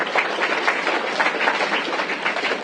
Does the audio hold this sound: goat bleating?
no